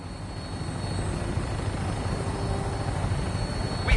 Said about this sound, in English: Flying around in a 200-year-old aircraft?